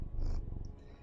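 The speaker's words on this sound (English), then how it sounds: "if you can hear him purring" A cat purrs close to the microphone, a low continuous rumble in soft breathy pulses, with no talking over it.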